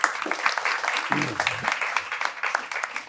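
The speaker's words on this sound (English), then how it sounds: "just a round of applause" A seminar audience gives a round of applause to thank the people who shared, dense steady clapping throughout with a voice briefly heard partway through.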